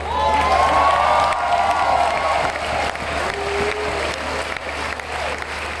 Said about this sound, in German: Von der Seite nochmal einen riesen Applaus an unsere Ochsener.